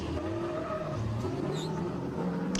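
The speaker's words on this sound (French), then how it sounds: "Top déclenchement pour la BMW E30 Kenda. La GT86 d'Axel qui n'est pas loin derrière." BMW E30 and Toyota GT86 drift cars slide at a drift event, a sustained engine drone with rising tire squeal heard from a distance, steady and moderately loud without voices.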